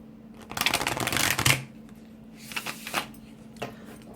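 Tarot cards shuffled by hand, a loud riffling burst followed by a few shorter, softer shuffles, close and clear with no talk.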